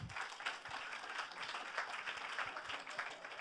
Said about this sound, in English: So you all deserve a round of applause as well for doing that.